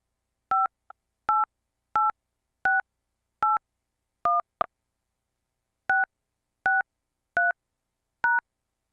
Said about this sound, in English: Enter the meeting pin followed by the pound key.